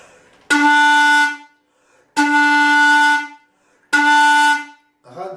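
An Andean zampoña panpipe sounds three loud, sustained breathy notes, each held about a second with short silences between, followed by a brief softer fragment at the end.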